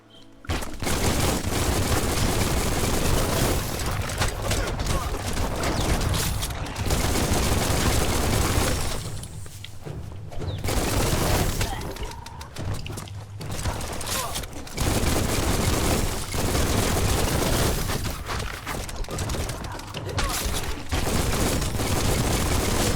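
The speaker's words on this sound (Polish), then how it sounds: "strzał." Heavy gunfire in the video game Biomutant: loud, rapid bursts of automatic fire and booming blasts nearly continuous over many seconds, broken by a few short lulls, with someone speaking at times underneath.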